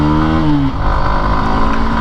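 Hero Xtreme 160R motorcycle engine revving loudly up close, a steady buzzing rise in pitch that drops sharply partway through, then settles into a rough, sustained drone.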